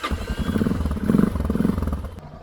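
A motorcycle engine cranking again after dying on the road, chugging with a steady rhythmic pulse, loud and close, without settling into a clean idle.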